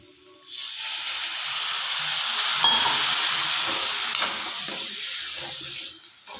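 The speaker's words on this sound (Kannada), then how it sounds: "ಇವಾಗ ಸ್ವಲ್ಪ ನೀರು ಹಾಕೊಳ್ಳೋಣ" Water pours into a hot pan of ridge gourd palya, setting off a loud hiss that rises, holds for several seconds, then fades.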